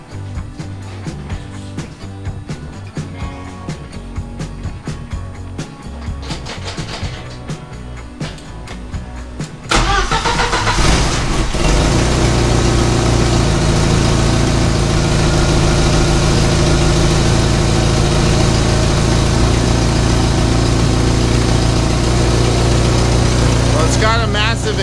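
A 1990 Jeep Wrangler YJ with a 2.5L engine and an exhaust leak cranks briefly, then catches and settles into a steady, loud, rumbling idle that runs for the rest of the clip.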